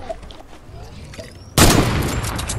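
A sniper rifle shot in Fortnite goes off loud and close after a quiet stretch, a sudden sharp blast with a long ringing tail.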